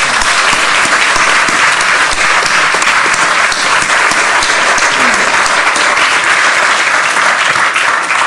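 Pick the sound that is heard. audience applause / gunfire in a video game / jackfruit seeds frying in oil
audience applause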